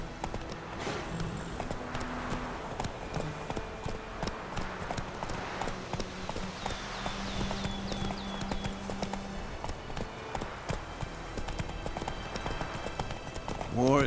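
Horse hooves clip-clopping at a steady trot in The Witcher video game, a continuous rhythmic patter under soft ambient sound, with a rider's voice urging and slowing the horse.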